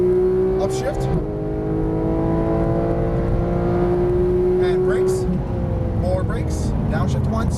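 Porsche 911 GT3 (991) engine under acceleration on a coned course, a loud rising howl that drops sharply at an upshift, with someone talking over it.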